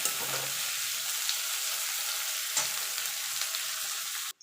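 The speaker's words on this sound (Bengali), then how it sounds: "এবার ক্যাপসিকামটা দিয়ে একটু নাড়াচাড়া করে নেব" Capsicum stirred and fried in a pan for fried rice: a continuous close sizzle with a couple of scraping stir knocks, alone without voices.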